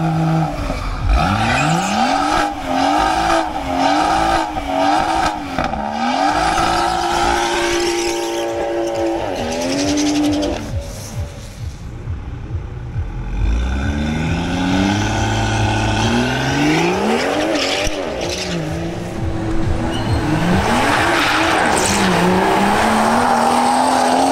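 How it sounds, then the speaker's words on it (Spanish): BMW M140i hatchback on a drag strip during a quarter-mile run, engine revving and accelerating loudly through rising gear pulls with tire squeal, close and continuous for the whole span. "El próximo en realizar una pasada es Freddy González en su BMW M140i."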